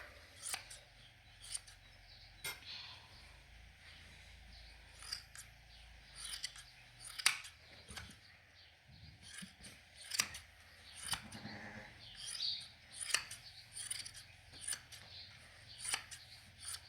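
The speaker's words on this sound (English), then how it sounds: "I've done it with the hand shears" Hand shears snipping through a Valais sheep's fleece, quick irregular metallic clips repeating throughout at close range over a low background hum, with faint rustling of wool.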